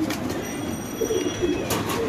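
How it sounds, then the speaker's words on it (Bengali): Pigeons at a bird seller's market cooing in soft, repeated low throaty calls, several birds close by with a faint background hum. "দর্শক কত সুন্দর এই কবুতরগুলো, ছেড়ে দেন ভাই।"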